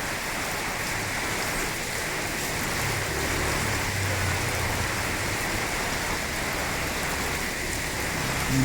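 Steady, dense rainfall pours down outdoors at a Thai fresh vegetable market, an even broadband hiss with no pauses, close and fairly loud throughout, no voices.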